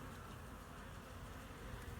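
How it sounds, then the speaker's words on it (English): A steady, dense hum of many honey bees buzzing together inside a hive, faint but continuous, with no voices or other sounds breaking through. "Got lots of bees in here"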